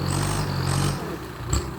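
A Kubota L4708 L Special tractor engine runs close by with a straight-through exhaust, a loud low throbbing drone that eases briefly before a short rise.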